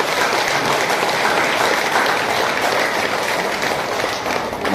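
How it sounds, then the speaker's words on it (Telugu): Loud, sustained applause from an audience at a meditation anniversary gathering, dense clapping filling the whole stretch with no pauses. "ఒకసారి గట్టిగా క్లాప్స్"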